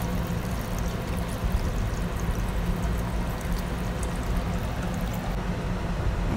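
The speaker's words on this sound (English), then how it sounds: "then we going to throw the water and rinse with cool water." Soaking water is poured off dried mushrooms in a kitchen while making winter melon soup, a steady close splashing pour running for several seconds with no talk.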